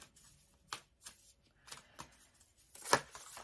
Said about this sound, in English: I'm kind of glancing at these cards as I shuffle the cards that came out.